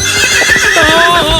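A horse gives a loud, close whinny in the street, and hooves clop underneath it during a short burst.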